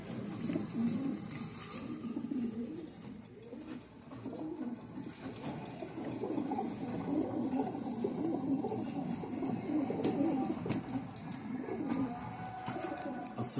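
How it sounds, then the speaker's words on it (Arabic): Pigeons coo in a low, rolling chorus close by, continuous and layered, with faint chirps and a few wing flutters. "قص اخوات ولاد حمام عالي جدا."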